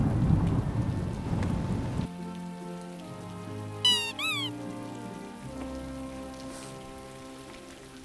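Heavy rain falls during a thunderstorm. A dense patter gives way to a rumbling roll of thunder, and a short warbling call rises briefly over the storm, with no talk.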